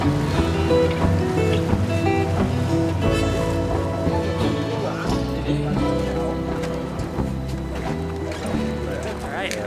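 Boat cruising on the Mekong River in Laos, a steady engine drone and water wash running continuously at moderate level, with music or talk layered over it throughout.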